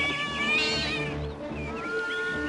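Cartoon cats meow and caterwaul loudly in overlapping, wavering cries that fill the whole stretch without pause, with no speech.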